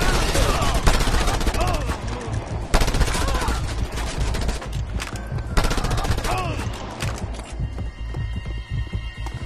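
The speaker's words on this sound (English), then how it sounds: "Scorpio, take care of the mounted gun!" A mounted machine gun in the video game Just Cause 2 fires in loud, rapid sustained bursts with brief breaks, layered with explosions and game effects, with a voice heard faintly.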